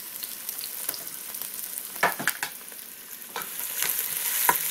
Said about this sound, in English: Let's stir fry them a little bit.